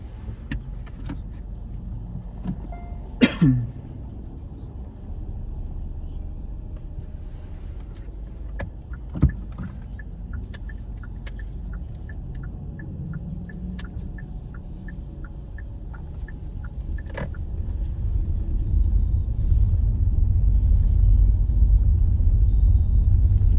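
A driving-school car pulling away on a cobbled street, engine idling then rising into a louder rumble as it moves off, with a few clicks and thumps from inside the cabin.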